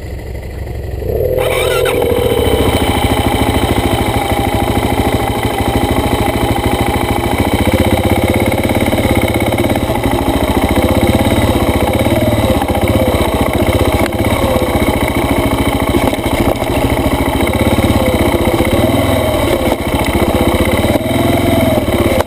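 A heavy dirt bike runs steadily through a forest trail ride, its engine droning loud and close with shifting revs for the whole stretch after a brief quiet start.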